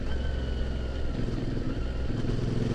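A CF Moto motorcycle engine revs steadily on a forest road, a continuous loud low drone that swells slightly as the throttle opens, with no voices.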